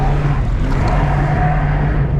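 A Volvo 740's engine drones loud and steady as the car drifts sideways around a corner, with a sustained low hum and a rising tone heard from inside the car, no talk.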